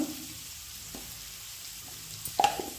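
Tomato and fenugreek leaves fry in a pan with a soft, quiet sizzle, then a couple of brief utensil clinks near the end.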